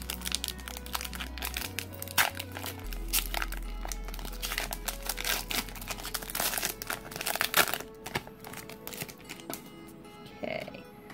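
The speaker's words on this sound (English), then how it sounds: "let's go ahead and open up this pack of Unbroken Bonds" A Pokémon Unbroken Bonds card pack wrapper is torn and crinkled open, quiet close foil rustling and crackling in irregular bursts.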